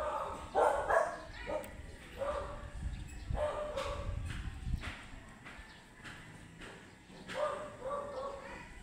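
Several dogs barking around a house lot in a residential subdivision in Santo Tomas, Batangas, with repeated yaps from more than one direction at moderate distance, mixed with footsteps and a person talking.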